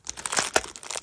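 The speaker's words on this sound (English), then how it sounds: "Let's see if I can rip this without scissors." A foil trading card pack wrapper is torn open by hand without scissors, a close burst of sharp crinkling and ripping with several quick snaps over about a second.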